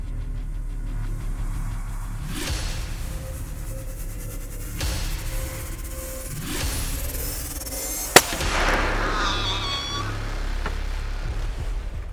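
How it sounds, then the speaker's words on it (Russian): A single sharp rifle shot at a wild boar from 50 meters cracks out at a quiet forest edge at night, preceded by a few soft rustling bursts and followed by a brief fading echo. "Выстрел был произведен с дистанции 50 метров."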